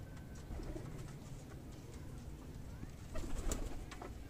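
Golden pigeons cooing softly in a breeder's loft, low repeated coos over a faint steady background, with a slightly louder burst of bird sound toward the end.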